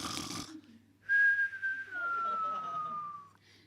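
A voice imitates a single-stroke snore as one long, sliding whistle-like tone that falls slowly in pitch and is heard alone, close and clear, in front of a comedy audience.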